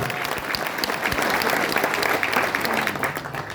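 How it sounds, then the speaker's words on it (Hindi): An audience at a political speech event for local youth surveyors applauds in a dense, steady burst of clapping that fades slightly at the end, with faint voices underneath. "ताली बजाओ जरा"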